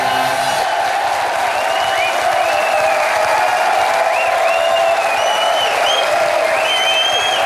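A studio audience at a French TV talk show applauds steadily for guests, a dense, loud wash of clapping with cheering and whistles rising over it throughout.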